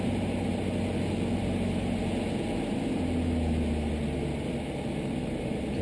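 Steady, loud drone of a Europa Monowheel aircraft engine, holding a constant hum for several seconds and easing only slightly near the end as the throttle is reduced.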